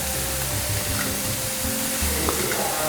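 Minced mutton keema frying with onions in a pan gives off a steady, close hiss and sizzle that holds at an even loudness throughout, with faint stirring scrapes beneath it.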